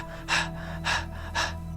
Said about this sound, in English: sticking your tongue out, and panting like a dog